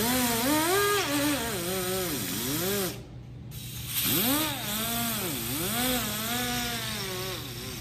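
A buffing wheel loaded with jeweler's rouge polishes an auto body shaping hammer, giving a loud, close motorized whine that swoops up and down in pitch as the work is pressed against it, with one brief break.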